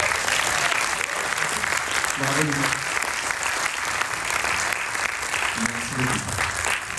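Audience applause at a start-up pitch day at La COBAS'Innovation, a dense, steady clapping from a large crowd filling the whole stretch, with a few voices calling out and speaking over it.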